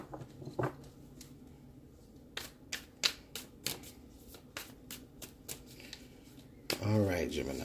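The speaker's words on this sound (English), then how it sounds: "let me shuffle one more time" Brisk shuffling of a tarot card deck with a series of sharp riffling bursts and taps, close up, followed by a longer ruffle at the end; a voice murmurs briefly.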